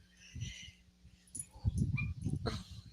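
A pet dog whimpers and cries indoors at walk time, with high, thin whines and a few soft yips, fairly close and rising in intensity over a few seconds, with no talking.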